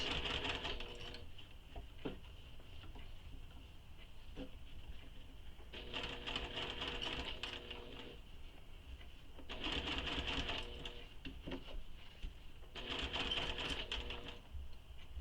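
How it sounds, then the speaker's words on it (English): A sewing machine stitches around the seam allowance of a soft toy, running in repeated bursts of two to three seconds with quiet pauses between them, close and moderately loud. "using the seam allowance, you're sewing all the way around"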